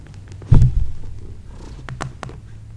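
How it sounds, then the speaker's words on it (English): Cat purring close up during an indoor yoga session, a low rumbling throb that swells loudly for a moment then settles into a softer steady purr, with faint taps and no talking. "Can you hear this cat purring?"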